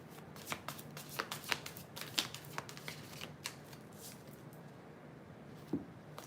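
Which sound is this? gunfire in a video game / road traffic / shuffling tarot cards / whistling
shuffling tarot cards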